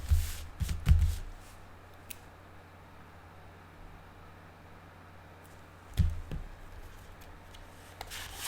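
Tarot cards spread out across a table, with soft sliding and rubbing bursts at the start and again around the middle, and quiet pauses between them.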